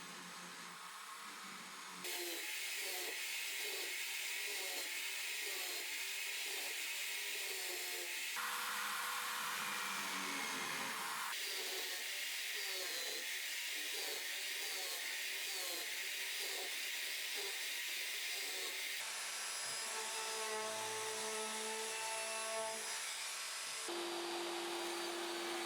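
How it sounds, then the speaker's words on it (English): A power drill boring holes into an OSB workbench top for holdfast clamps, loud steady whirring bursts that stop and restart several times, running alone throughout. "Now I'm going to mark and drill holes for the holdfast clamps."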